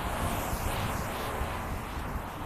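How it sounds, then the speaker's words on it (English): Steady, broadband wind buffeting a nearby microphone, a constant roaring rush with no pauses and no voices. "So windy right now."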